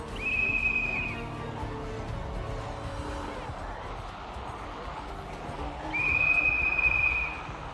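A sustained whistle blown in the Project Zomboid video game, sounding twice as long steady high tones about five seconds apart over a low game background.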